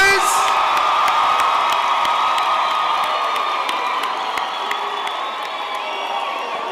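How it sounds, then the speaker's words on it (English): A graduation ceremony crowd cheers, whoops and claps loudly as the graduating class is celebrated, a dense roar that slowly eases, with voices calling out over it. "let's give a massive round of applause to the graduating class of 2023."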